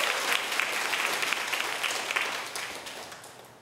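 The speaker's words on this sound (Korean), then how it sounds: "박수 한번 다시 쳐주시죠." Applause from a church lecture audience for three singers who performed hymns, a steady wash of clapping that holds evenly and then gradually fades toward the end.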